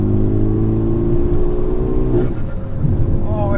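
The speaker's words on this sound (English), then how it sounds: "it's the whooshes as you change up." Renault Megane Trophy hot hatch engine pulling hard in the cabin, then a brief whoosh and dip at the gear upshift before the revs build again, steady and close throughout.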